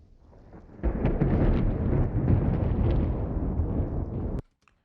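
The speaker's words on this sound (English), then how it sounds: "It sounds a bit like a white noise kind of splash, and I just doubled that up with the thunderclap." An ocean wave splash layered with a thunderclap: a broad, roaring splash of noise swells in, rumbles heavily like thunder for a few seconds, then cuts off abruptly.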